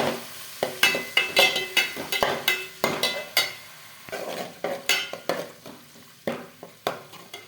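Prawns are stir-fried in a pan for prawn fried rice, with a metal utensil scraping and tossing in quick, irregular strokes over a steady sizzle, close and clear, with no talking.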